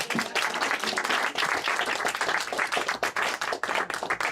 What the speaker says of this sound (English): You can clap for her. You should.